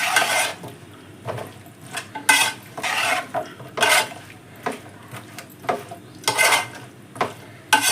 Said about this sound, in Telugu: ఈ మసాలాకంతా మనము మునక్కాయలు వేసి కలుపుకోవాలి